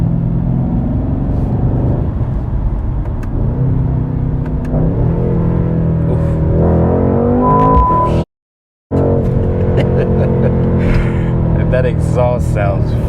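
A 2021 AMG C63s sedan V8 exhaust, rear-wheel drive and in race mode with the baffle open, revving and pulling through quick gear shifts with a deep, loud rumble rising and falling, cut by a brief gap, under some talk.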